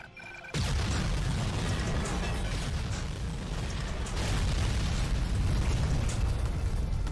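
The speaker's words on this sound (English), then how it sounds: "Are you done exploding yet?" Loud, continuous explosions and rumbling blasts from the World War II shooter Medal of Honor: Allied Assault, erupting suddenly after a brief quiet moment and roaring on without a break.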